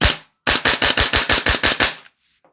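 A gas blowback airsoft rifle, an MCX-style build fed from an MWS magazine, fires one short shot, then after a brief pause a rapid burst of about eight sharp cracks, loud and close, with no talk.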